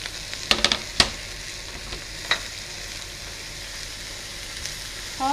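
Peppers sizzle steadily in a hot pan for ratatouille, a soft continuous frying hiss broken by a few sharp clicks and scrapes of stirring near the start, with no voices.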